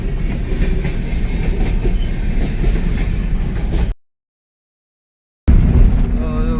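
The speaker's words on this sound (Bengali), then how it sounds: "আমরা ব্রিজের ওপরে এখন ব্রিজ ক্রস করছি আর পাশ দিয়ে ট্রেন পাস করছে" A train passing alongside the Farakka bridge, heard from a vehicle crossing it: loud continuous rumbling with clickety-clack of wheels on rails, broken by a brief dropout, then resuming.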